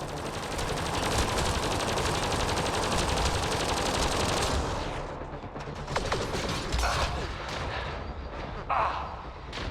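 Combat in the video game Mass Effect: Andromeda on Voeld: loud, dense rapid-fire gunfire for about four seconds, then scattered sharp shots and mechanical clicks of a weapon being reloaded, with no talk.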